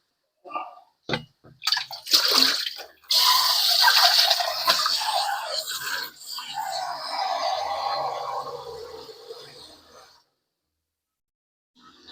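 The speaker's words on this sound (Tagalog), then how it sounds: "Ayun, lagyan na natin siya guys ng tubig." Water is poured into a cooking dish: a few clinks and handling knocks, then a steady splashing pour lasting several seconds that tapers off before silence.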